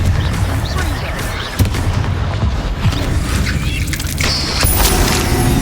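Confringo spell blasts in the video game Hogwarts Legacy, with repeated booming bursts and crackling impacts over a busy, dense background of combat effects, fairly loud throughout.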